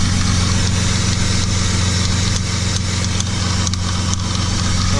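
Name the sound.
knocking sound under hood of BMW E30 M52B28 engine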